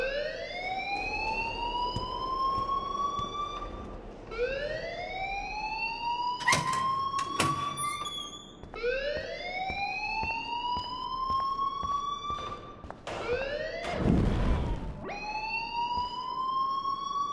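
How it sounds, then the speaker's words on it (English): A school alarm blares in the video game Life is Strange, a loud repeating rising siren sweep about every four seconds, with brief clanking sounds between cycles. "please turn off that alarm since that's your job"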